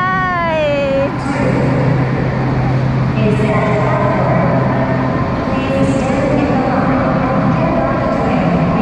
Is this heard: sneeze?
no